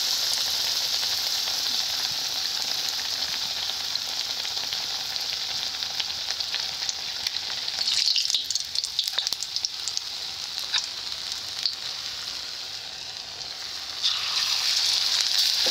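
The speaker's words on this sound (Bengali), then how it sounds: "তেল গরম হয়ে গেছে, এক এক করে ছেড়ে দেব" Fritters frying in hot oil, a dense, loud, continuous sizzle and crackle close by that dips briefly midway then swells again, with no voices.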